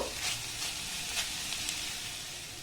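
Vegetables frying in a pan, a soft steady sizzle and hiss running continuously with a few faint clinks, no voices.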